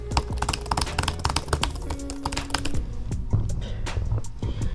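Quick, steady typing on the backlit keyboard of an HP Envy x360 laptop, a run of close, crisp clicking keystrokes with a few short pauses.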